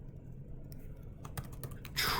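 Formula code is typed on a computer keyboard into a spreadsheet: quiet scattered key taps that become a quick, close burst of clicks near the end, with no talking.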